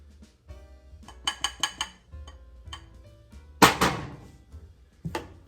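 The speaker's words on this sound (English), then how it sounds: "And we're just going to stir that in." Metal spoon knocking and scraping in a bowl as pudding is stirred into whisked eggs for chocolate cream pie, with a quick run of clinks followed by a louder clatter, close up and with no talking.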